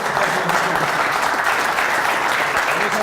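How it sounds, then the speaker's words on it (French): A seated audience at an evening political event for by-election candidates applauds steadily, a dense, even clapping that fills the room for several seconds with faint crowd murmur underneath. "Je pense qu'on peut les applaudir."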